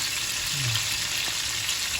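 Steady oil sizzle and crackle of dalagang bukid (red-bellied fusilier) fish frying in a pan, a continuous hiss with no voices.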